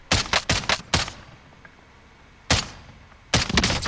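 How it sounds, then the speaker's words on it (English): An EBR-14 semi-automatic sniper rifle firing in Warzone: a quick string of five sharp shots, a pause, one more, then a short burst of two or three, loud and close. "I just wanted to show how good this semi-auto can be"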